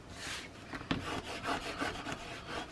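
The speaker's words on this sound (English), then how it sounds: "Now I'm going to give it another quick little burnish" A burnishing tool rubbed quickly over paper in short back-and-forth strokes makes close, soft scraping swishes, with one sharper scuff partway through.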